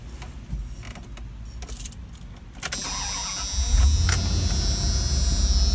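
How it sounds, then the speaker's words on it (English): A 1993 Dodge Roadtrek 190 camper van's engine cranks with a creaky mechanical whir, catches about halfway through and settles into a steady, loud, close idle hum. "I'm going to go ahead and turn the car on, and you'll get to hear the engine."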